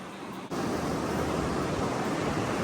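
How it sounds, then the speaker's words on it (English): Loud, steady roar of surf crashing on Boat Harbour Beach, Tasmania, a brief dip then continuous broadband wash of waves with no voices. "The waves are ginormous and so noisy!"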